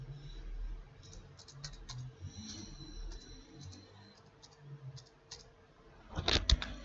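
Typing an email address and password on a computer keyboard, close up: a steady run of light key clicks, with a louder cluster of taps near the end.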